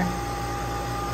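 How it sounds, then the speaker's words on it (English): A coolant pump runs beside cooling fans on a C7 Corvette Z06 supercharger cooling system being bled, giving a steady, loud whirring hum with no break. "So the pump is coming on"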